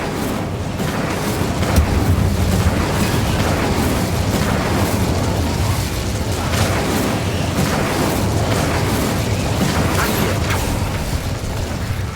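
The Confringo spell in Hogwarts Legacy, with a dense, continuous roar of explosive blasts and rumbling booms that stays loud and steady throughout.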